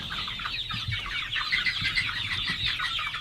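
Chickens clucking steadily in a flock on farm pasture, a busy overlapping chorus of calls with a low rumbling background throughout.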